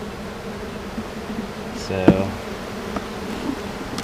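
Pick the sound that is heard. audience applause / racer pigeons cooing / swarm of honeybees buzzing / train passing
swarm of honeybees buzzing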